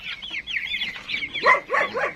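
Several chickens cluck and chirp continuously nearby, their calls overlapping in quick, busy bursts.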